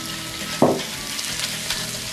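Ground beef frying with onions in a pan over low heat, a steady close sizzle with one sharp hiss as meat is added, then continued frying and stirring.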